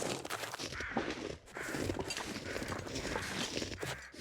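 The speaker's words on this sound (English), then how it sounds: "Are those mobile crows? Yeah, it sounds like they're moving away from me." Crows caw in the snowy wilderness of The Long Dark, their calls drifting off as the birds move away, mixed with creaking and crunching footsteps in a continuous wintry ambience.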